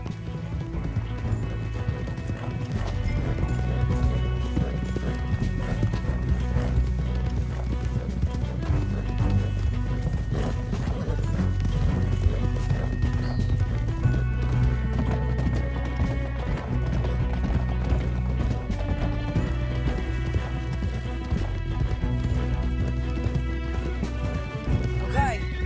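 Horses gallop in the video game Red Dead Redemption 2, hooves clip-clopping in a steady driving rhythm with occasional whinnies, accompanied by a music score and characters talking over the hoofbeats.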